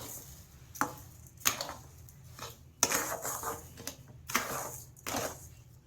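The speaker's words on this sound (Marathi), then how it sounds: "आणि साखर पण आता आपल्याला छान मिक्स करून घ्यायची आहे." Sugar is stirred into semolina in a metal pan for mango sheera, giving several sharp scraping clinks of a spoon against the pan at irregular intervals, close and alone.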